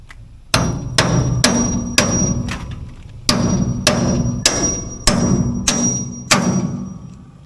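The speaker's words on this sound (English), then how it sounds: "let me get a hammer and we'll drive that in." Sharp, ringing hammer strikes driving a stake at a steady pace, about a dozen blows with a short pause midway, close and loud.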